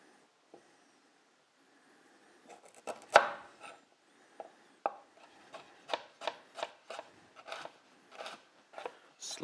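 A knife slices galangal on a board for a Thai chilli cockle dish, faint scattered cuts giving way to a quicker run of crisp, evenly spaced chops, with no voices.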